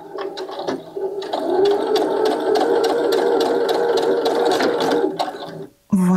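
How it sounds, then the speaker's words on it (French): A domestic sewing machine runs steadily for about five seconds, stitching a thread chain into empty air while sewing a Gatsby cap, with a rapid mechanical chatter close by, then stops abruptly. "je vais coudre quelques points dans le vide et ça va former une chaînette"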